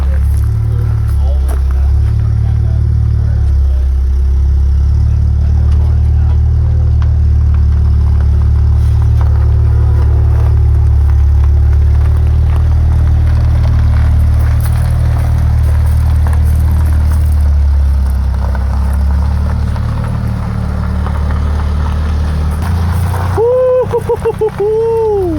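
A 1977 Toyota Celica engine runs loud and close as the car moves off, a steady low droning rumble with slight rising revs, ending in a brief whine near the end.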